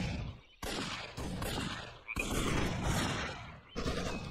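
Gunfire in the World War II strategy game Codename: Panzers, with loud bursts of shots and explosive cracks starting abruptly in several close, dense volleys that fill the whole stretch.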